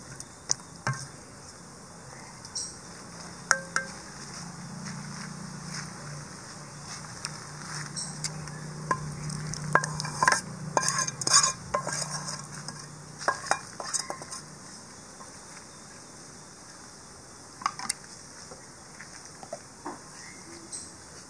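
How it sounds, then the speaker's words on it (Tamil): Curd rice being mixed with potato fry and salt, a spoon scraping and stirring in a metal vessel with soft clinks of cutlery, steady and fairly quiet throughout with a few sharper taps. "தயிரோடு சேர்த்து நல்லாவே சாதத்தோடு சேர்த்து நல்லா மிக்ஸ் பண்ணி எடுத்துக்கணும்."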